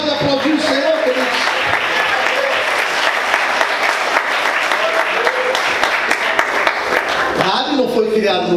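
A church congregation applauds, a loud, dense and sustained wash of clapping filling the room, with voices calling out over it near the end.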